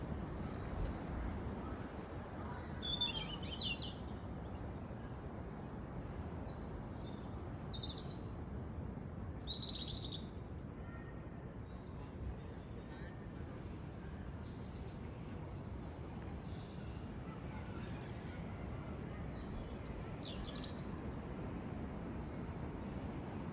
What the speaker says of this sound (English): all you hear is birds and the waves crashing